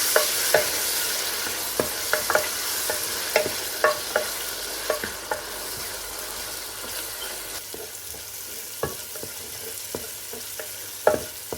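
Chopped tomato fries in a lentil and vegetable curry base, a steady sizzle broken by repeated sharp clicks of a spoon stirring against the pan.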